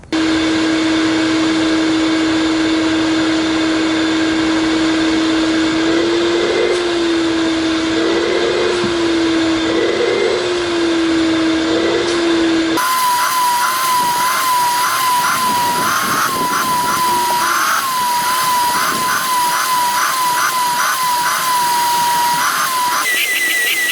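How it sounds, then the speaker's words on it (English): A shop vac runs steadily and loudly while vacuuming the carpeted floor mats of a 2022 Honda Civic Hatchback Sport, its motor whine holding throughout and shifting pitch partway as the nozzle works the dirt. "use the shop vac to get most of the dirt"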